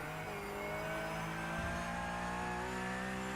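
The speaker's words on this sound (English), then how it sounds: "Such a beautiful sounding car, especially down the downshifts" Porsche Cup race car in a racing video game, engine revving steadily at high pitch with shifting tones, loud and continuous with no talk over it; pops and crackles on downshifts are not clearly distinct.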